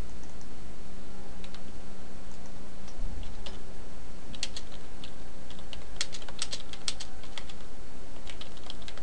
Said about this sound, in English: then you can just type the message here